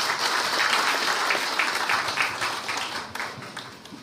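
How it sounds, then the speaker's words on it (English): Audience applause fills the hall at the grand opening of a new Buddhist centre building in Singapore, a dense, sustained clapping that stays loud and then gradually thins and fades toward the end. "Shall we give them another big round of applause, ladies and gentlemen?"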